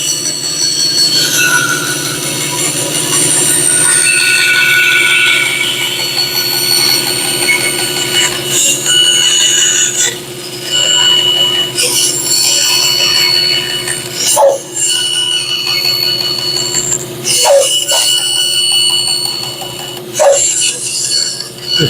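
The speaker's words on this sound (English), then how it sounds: "We're at our bandsaw. We're going to cut these out real quick and see what we get." A bandsaw with a 1/4 to 3/8 inch blade cuts wooden pieces, giving a loud continuous whine with shifting high squeals and a few brief dips and sharp bursts as the cut changes.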